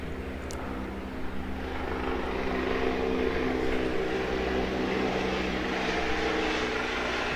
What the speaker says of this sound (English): There's a chopper going by